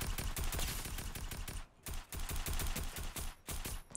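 Fortnite gunfire crackles in long, rapid automatic bursts, loud and dense, with a couple of brief pauses between volleys.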